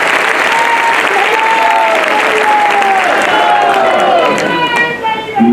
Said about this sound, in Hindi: जोरदार तालियां जरा भूपेंद्र सिंह जी के लिए हो जाए